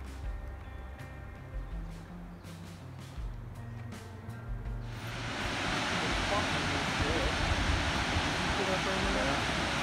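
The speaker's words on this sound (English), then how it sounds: "you can hear the water down there" Water flows down a creek gorge at Fall Creek Falls State Park in Tennessee. Quiet ambience comes first, then a steady broadband rush of water swells in about halfway through and continues evenly.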